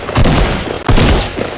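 Loud, dense bursts of machine gun fire in the Fortnite video game, two sustained volleys close up with a brief gap between them.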